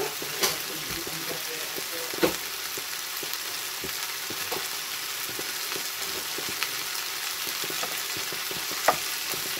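Butter sizzles and fries in a pan with a continuous hiss, punctuated by a few sharp clicks and pops of stirring utensils against the pan.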